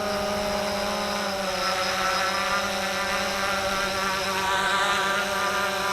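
A WLToys V303 GPS quadcopter drone hovering close by, a loud continuous whine of buzzing propellers with steady tonal layers that swell slightly as it climbs, without speech.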